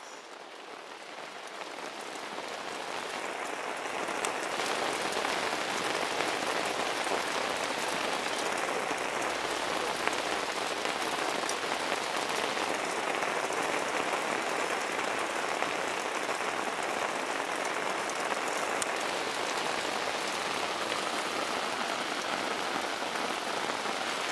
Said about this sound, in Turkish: yağmur iyice arttı